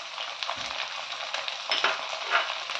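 Beans, carrots, green chillies and spices for veg pulao sizzle steadily in a pan, a soft continuous frying hiss with a few stirring scrapes, close and fairly quiet with no talk.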